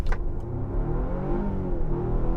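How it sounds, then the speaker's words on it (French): A Volvo XC60 T6 Recharge plug-in hybrid accelerates from 0 to 80 on a slight downhill, its engine growling steadily and rising in pitch from inside the cabin. "vous pouvez entendre que le moteur gronde"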